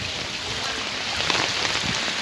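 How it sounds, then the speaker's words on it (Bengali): Heavy rain pours steadily on a waterlogged city street, a dense, even hiss of countless drops that fills the whole stretch without breaks, loud and close with no voices over it. "দেখেন আপনারা বলতে বলতে বৃষ্টি শুরু হয়ে গিয়েছে"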